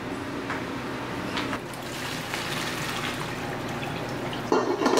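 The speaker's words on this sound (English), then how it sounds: "Take my pasta to my sink to drain the water." Hot water from cooked bow tie pasta poured out into a kitchen sink, a steady splashing, gurgling rush close by that continues throughout, growing louder near the end.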